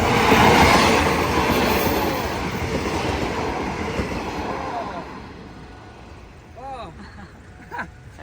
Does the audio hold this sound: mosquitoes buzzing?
no